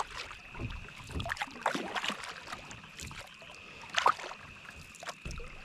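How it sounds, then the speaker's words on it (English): Paddle strokes from a new kayak fitted with a spray skirt, out on open water: soft splashes and drips recur every second or so over light wind noise, with a sharper splash near the end. "Trying to get used to the new kayak, thought I'd try the skirt."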